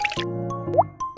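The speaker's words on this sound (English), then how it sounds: "Of course, you have to add water!" Water poured into a pot of rice in a miniature cooking setup, heard as a short run of close drips and plops with a brief squishy gurgle, loud and alone.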